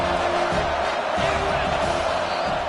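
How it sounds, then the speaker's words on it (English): Home crowd at a football game roaring loudly and continuously, a dense wash of cheering that fills the whole moment with no pauses. "how nice is it to have the home crowd going absolutely bananas"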